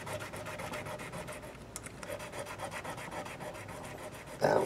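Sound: cleaning and polishing guitar frets

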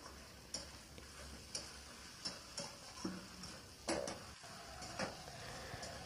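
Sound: frying spice paste with cumin and coriander powder

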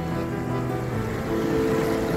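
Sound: water flowing near a fort

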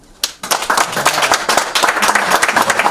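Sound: applause

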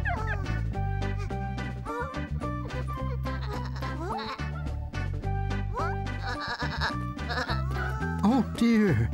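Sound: sheep bleating

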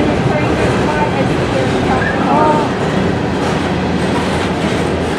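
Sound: empty Norfolk Southern coal train passing

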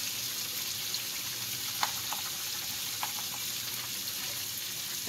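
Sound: biryani seasoning cooking in a hot pan

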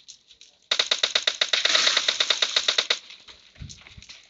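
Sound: gunfire in PUBG Mobile video game

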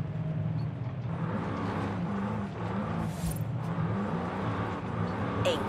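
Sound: V8 car drifting on dirt in Forza Horizon 5 video game

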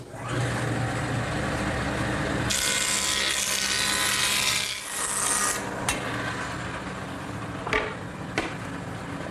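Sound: jointer straightening board edges

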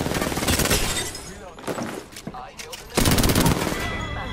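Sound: Spitfire machine gun firing in a video game

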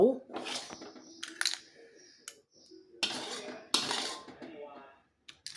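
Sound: stir-fried clams with chili paste scooped onto a plate

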